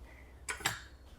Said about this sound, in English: now I'm gonna cut a slice for us to enjoy